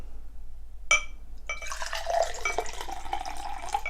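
Liquid poured into an empty glass starts with a short splash, a pause, then a steady gurgling trickle whose pitch rises as the glass fills, close and clear with no talking.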